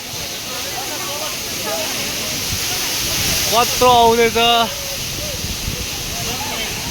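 The Indrani waterfall roars in a steady, loud broadband rush heard from right beneath the falls, while people talk and call out over it.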